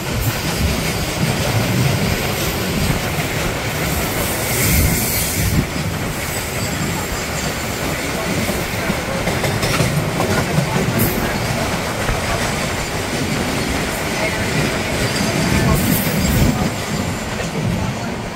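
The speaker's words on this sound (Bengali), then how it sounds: "ছটা 26 বাজে ট্রেন কিন্তু মেচেদা স্টেশনে এসে থামলো" The Tamralipta Express rumbles into Mecheda station, wheels clattering and squealing on the rails in a loud, continuous roar that swells and shifts over the long approach, without talk.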